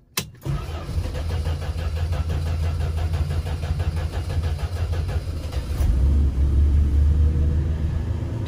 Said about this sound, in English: Took a few more cranks than normal, but the high idle's going.